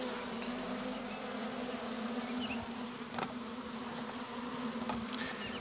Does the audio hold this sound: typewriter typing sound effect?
no